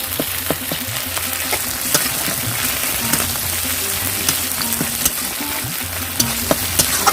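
Ginger paste frying in a pan for a village-style rohu fish curry, a loud continuous sizzle with scattered crackles and occasional scraping taps of stirring, no talking.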